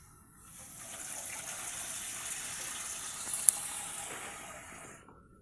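Water gushes into a pot while dashisha is being cooked, a steady, moderately loud pour that starts suddenly, holds for about five seconds and then stops.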